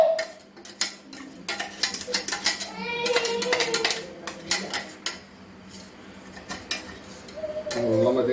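Ground masala being added to country chicken in a pan, with a busy run of clinks, scrapes and taps of a spoon against metal cookware, some faint talking mixed in.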